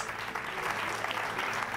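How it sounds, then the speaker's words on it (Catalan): Steady applause from an audience at a Catalan televised school spelling quiz in Terrassa, dense and continuous clapping throughout with faint voices underneath. "Aplaudim, aplaudim aquests quatre centres"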